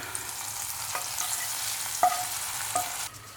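Hot spiced tempering poured into a tomato curry sizzles in a steady frying hiss, with a few clinks and stirring knocks over the brief pour, close and alone without voices.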